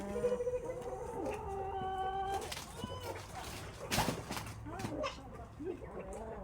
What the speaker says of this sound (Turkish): Şimdi bunu da tavuklarımın önüne atacağım.